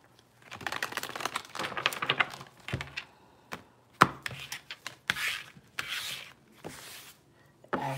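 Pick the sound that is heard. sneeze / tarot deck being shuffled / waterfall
tarot deck being shuffled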